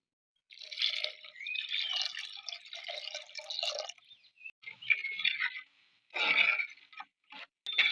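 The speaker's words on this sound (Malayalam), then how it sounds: "അപ്പൊ അരപ്പിന്റെ വെള്ളം കൂടി ഇതിലേക്ക് ഒഴിച്ചു കൊടുക്കുന്നുണ്ട്" Ground masala water pours into a simmering fish curry in a Kerala kitchen, giving several gurgling, splashing pours with short pauses between them, close and moderately loud.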